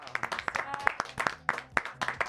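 Studio audience on a French television show clapping briskly. The applause is close and irregular, with a sparse, uneven rhythm of hand claps over the full two seconds.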